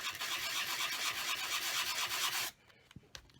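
A small sanding block rubs briskly against a card to remove a smudge, a close, dry, steady scratching rasp that stops abruptly near the end and leaves a few faint taps.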